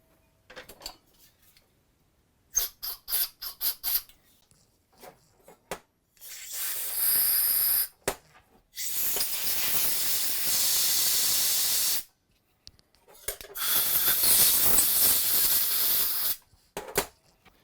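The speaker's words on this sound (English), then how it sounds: "And I will have to clean it out with carb spray." Carb cleaner sprayed onto a part from an abandoned lawn mower in bursts of loud close hissing, a short spurt followed by two long sustained blasts, with clinks of handling between them.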